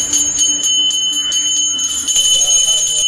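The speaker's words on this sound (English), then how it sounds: "the priest rings a bell to eliminate the negative forces of the demons" A priest rings a hand bell during a Lakshmi Kubera Homa puja, its bright metallic tone sounding in quick repeated strokes that ring on continuously.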